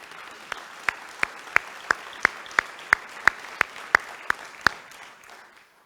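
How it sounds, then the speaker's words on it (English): At a Rotary meeting, about a dozen sharp, evenly spaced claps ring out in a steady beat over a quiet room, then stop. "Let's give them another round of applause."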